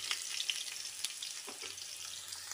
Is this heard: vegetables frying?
yes